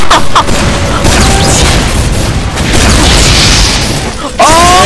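Explosive booms from rocket jumps in the shooter game Team Fortress 2, loud and continuous amid game noise and chatter, with sharp bursts standing out over dense sound throughout.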